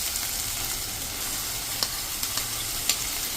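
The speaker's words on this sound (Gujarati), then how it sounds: "હવે આમાં આપણે 2 ટમેટાની પ્યુરી કરી છે એ નાખી દેશું" Tomato puree is poured into peas and onions frying in a pan, giving a steady close sizzle with a few soft clicks and stirring taps over the hiss.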